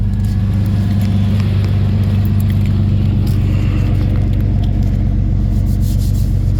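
A Chevrolet Monte Carlo SS that has sat unused for a couple of years idles with a loud, steady, low rumbling engine throb, close by, with no talking.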